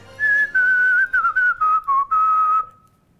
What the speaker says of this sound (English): I'm pretty good at whistling